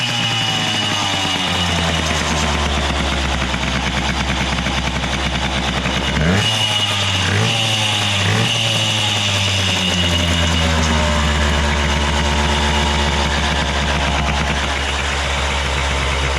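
A Flèche d'argent moped fires up and settles into a loud, steady two-stroke idle nearby, with a few blips of the throttle partway through and the engine running on without any voices.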